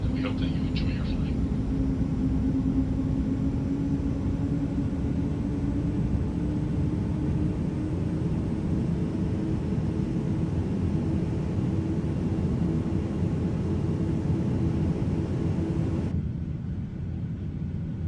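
Engine 1 of an Airbus A350-900 spooling up in a flight simulator: a steady, loud rumbling whine with a rising tone that holds throughout, then cuts off abruptly near the end.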